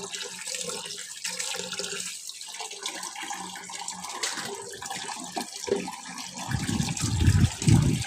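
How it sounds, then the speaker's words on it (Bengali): Meat is washed under a running tap for a picnic meal, with a steady splashing water stream throughout and louder, heavier gushing and sloshing toward the end. "মাংসটা আমি ভালো করে পরিষ্কার করে ধুয়ে নিচ্ছি"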